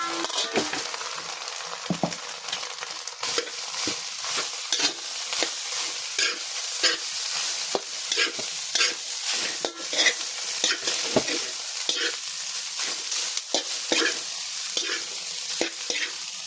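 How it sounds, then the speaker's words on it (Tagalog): Java rice being stir-fried in a pan with chicken curry about to go in, a steady sizzle with repeated scraping strokes of a spatula running throughout, close and fairly loud, with no talking. "magsarag tayo ng Java rice"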